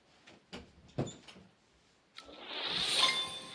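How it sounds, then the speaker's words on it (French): Indoor door swung shut at home, a soft close followed by a sliding scrape and a brief ringing clink, all near and fairly quiet. "Je vais fermer la porte."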